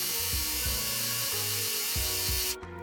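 A sewing machine stitching down butted serged fabric edges on a scrap patchwork project, a steady close mechanical whirr with rhythmic ticking of the needle, running continuously and stopping abruptly near the end.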